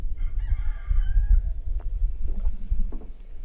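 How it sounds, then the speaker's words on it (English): A rooster crows once, fairly distant and outdoors, its drawn-out call rising over a low rumbling background, followed by faint scattered clucks. "Do you guys hear the rooster?"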